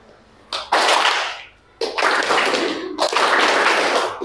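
A group claps on cue from a leader's hand signals, three loud bursts of massed clapping broken by brief silences.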